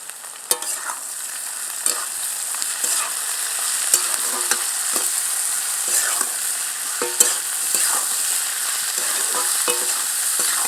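Prawns fried with potatoes, chilli powder, green chillies and turmeric in a pan give a steady bright sizzle, broken by regular scraping stirs of a spatula at a moderate, unhurried pace.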